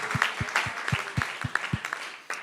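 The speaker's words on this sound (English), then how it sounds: "I think that alone already deserves a huge round of applause." Applause from the audience at a political party general assembly, a modest crowd clapping steadily with sharp individual claps standing out, fairly quiet and continuous throughout.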